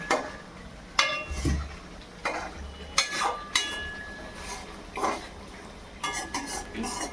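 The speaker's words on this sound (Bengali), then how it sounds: "এবার নাড়িয়ে নেব।" Fish cooking in oil in a pan is stirred with a utensil, giving a series of distinct scraping and clinking strokes about once a second over a faint background, close and moderately loud.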